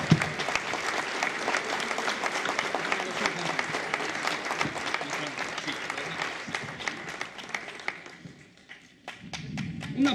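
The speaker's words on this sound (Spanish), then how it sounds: "Un aplauso más, por favor," A conference crowd applauds steadily for several seconds, dense clapping that thins out near the end before a brief swell returns.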